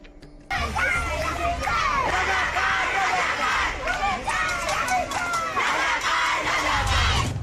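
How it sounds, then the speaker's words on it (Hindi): A protest crowd in the streets of Bangladesh chants slogans in rhythmic, overlapping shouted phrases, loud and close, with many voices rising and falling in waves for several seconds after a sudden start. "लोग सड़कों पे उतरकर नारे चिल्लाने लगे, तुमी के आमी के रजाकार रजाकार।"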